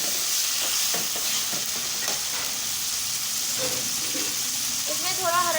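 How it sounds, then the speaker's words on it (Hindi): Tomatoes sauteing in a pan for aloo bharta sizzle loudly and steadily, with stirring scrapes breaking through the frying now and then. "अब टमाटर और इसको हम थोड़ा भून लेंगे, सॉफ्ट हो जाए टमाटर।"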